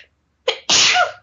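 One loud, close sneeze from a woman, a short sharp intake followed by a forceful burst, alone against silence.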